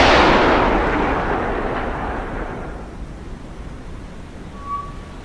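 A torpedo launched from tube 1 in a submarine video game, a single loud, rushing blast that decays over several seconds into a low rumble, with a faint tone near the end.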